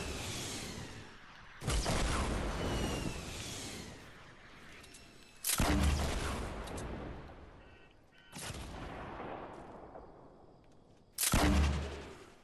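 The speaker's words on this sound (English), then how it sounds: "Oh, they're shooting, they're shooting, they're shooting." Gunfire in the video game Fortnite arrives as four separate loud bursts of shots a few seconds apart, each fading out before the next, with no talk over them.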